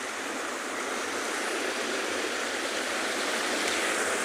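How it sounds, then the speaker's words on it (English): Calm, flat sea water lapping at the Cape Town shore, a steady broad wash of water noise without distinct breaking waves or voices. "You'll hear the water lapping."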